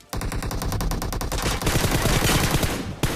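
Automatic weapon fire in a shooting video game, a long loud unbroken burst of rapid shots that intensifies midway, a brief pause, then firing resumes.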